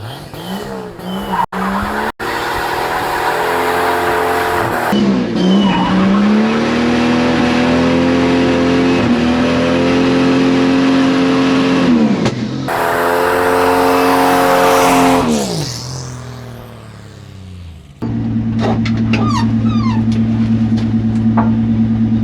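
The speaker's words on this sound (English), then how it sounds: "We told Barbie there's some burnouts." A pickup truck with a turbocharged Slant 6 engine does burnouts, the engine revving hard and the tires squealing loudly and continuously, with brief gaps and a drop in engine pitch near the end.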